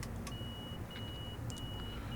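Door-closing warning beeps from an LIRR M7 commuter train in Train Sim World sound as a steady electronic tone that cuts in and out over a low, constant motor hum, faint and without voices.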